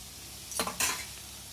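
Vegetables for a mixed veg biryani stirred and fried in a pan at home, two short bursts of scraping and sizzling close by, with quiet kitchen background between them.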